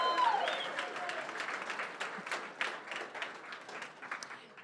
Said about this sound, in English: Can we get a round of applause for his announcer voice?